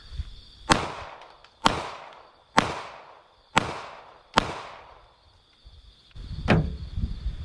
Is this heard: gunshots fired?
yes